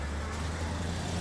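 Passing car traffic on a roadway with low engine rumble, one car's exhaust loud and rough, a continuous close drone for about a second.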